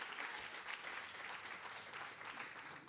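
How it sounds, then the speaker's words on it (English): Audience applause at a gubernatorial candidates' early childhood policy forum, a dense, steady clapping from a crowd that fills the whole span without pause, loud and close with no talk over it. "let's give one more round of applause for those kids"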